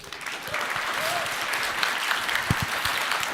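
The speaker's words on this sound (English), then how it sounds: "Applause for our volunteer." Audience at a Nordic Game conference session applauds a volunteer with dense, steady clapping that fills the room for the whole stretch, with no clear voices standing out.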